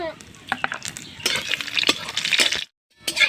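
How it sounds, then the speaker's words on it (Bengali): Cumin seeds, bay leaf and dried red chillies spluttering in hot oil in a kadai, a busy crackle and sizzle with sharp pops and a few metallic clinks, stopping briefly before resuming. "কাঁচা জিরে তেজপাতা আর শুকনো লঙ্কা ফাটিয়ে দিচ্ছি"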